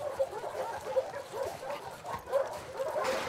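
Dog whimpering with soft yips and small barks in The Last of Us Part II, a companion dog being freed, the short whiny calls repeating close by over low game ambience.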